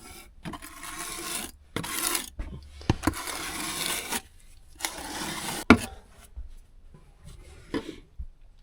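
Residue scraped off bolster chisels in a shed, with rough rasping strokes in short bursts separated by pauses, close and fairly loud.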